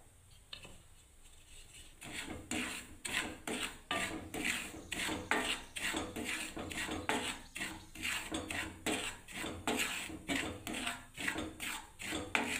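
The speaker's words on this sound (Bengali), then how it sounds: "সুজিটাকে আমি প্রথমে ভেজে নিচ্ছি লাল করে একটু করে" Semolina (suji) dry-roasting in a pan for upma, with a utensil scraping and clinking against the metal in a steady, busy rhythm throughout, close and fairly loud with no talk.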